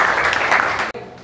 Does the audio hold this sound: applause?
yes